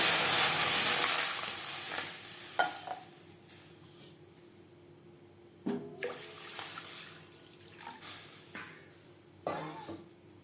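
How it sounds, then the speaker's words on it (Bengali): Water is poured into a kadai while making an egg omelette curry. A loud splashing pour at the start tapers into softer trickles, followed by several short bursts of sizzle and splash. "সেই কড়াইতেই দিয়ে দেব জল"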